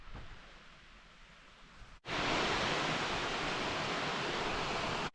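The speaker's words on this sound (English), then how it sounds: "there's the falls" A waterfall in Michigan roars as a loud, steady broadband rush that cuts in abruptly and holds constant until the end, with no voices over it.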